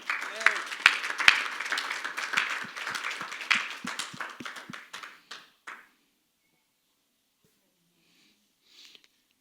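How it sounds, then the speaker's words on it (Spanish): A church congregation applauds during a bilingual sermon, a dense burst of clapping that thins into scattered individual claps and fades to silence after about six seconds. "Dale un aplauso al Señor."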